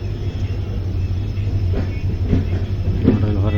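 The Panchaganga Express, train 16595, pulling out of Kukke Subramanya station with a steady low rumble and a few faint clattering wheel knocks, heard from on board.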